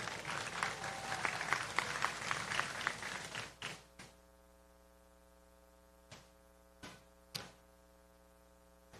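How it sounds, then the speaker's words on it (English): Graduation ceremony crowd applauds a trustee coming to the podium, a moderate burst of clapping in a large hall that dies out after a few seconds, leaving quiet hum and a few stray claps or knocks. "Please give him a round of applause."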